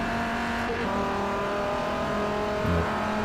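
Dodge race car engines in Forza Motorsport 4 at Road America, a steady loud high engine drone with shifting revs and a brief tire squeal, with faint talk underneath.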